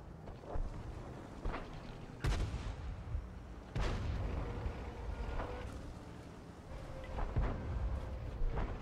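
Artillery fire in World of Tanks, several heavy booming shots landing at irregular intervals, some sharp and close, others duller and more distant, over a steady engine-like rumble.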